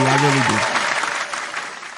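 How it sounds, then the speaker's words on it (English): A round of applause for RDC starts right after a brief spoken voice, then continues as a steady wash of many hands clapping that slowly thins toward the end. "I want to give a round of applause to RDC for putting this together for real"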